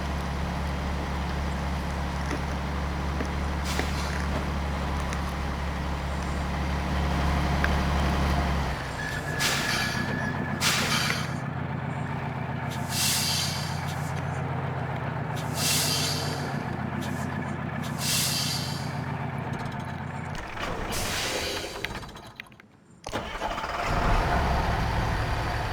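A truck engine from the MudRunner off-road game drones and rumbles at a low idle, then revs with interruptions, fairly loud throughout.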